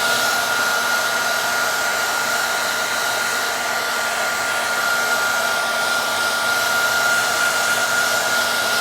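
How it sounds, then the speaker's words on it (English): A heat gun warming a scuffed fender liner on a Pontiac Solstice GXP, a loud steady blowing whoosh with a faint whine that runs unbroken the whole time. "just heating this fender liner up"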